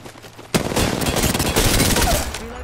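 Rapid bursts of video game gunfire from a Kraber crack out one after another, loud and close, with game action noise running underneath and no talking.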